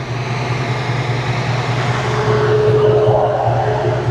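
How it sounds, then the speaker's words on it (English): An electric cooling fan on a Foxbody Mustang, set at 70 percent, runs with a steady, close whooshing drone and a constant low hum, unbroken throughout. "you can hear the fan going"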